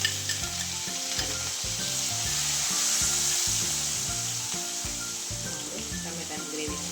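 Tomato gravy is poured into hot spiced oil for Kathiyawadi dhokli shaak and stirred, producing a loud, steady frying hiss with scraping stir strokes, over soft background music.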